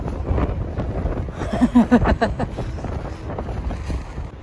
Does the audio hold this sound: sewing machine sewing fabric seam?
no